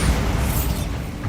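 A Bombarda spell from the game Hogwarts Legacy goes off as a loud, close, rumbling blast that fills the whole short moment without a pause.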